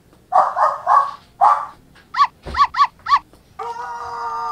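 A dog barks repeatedly, first a cluster of four deep woofs, then a run of higher, sharper barks, ending in a steady electronic tone; close and clear, with no talking.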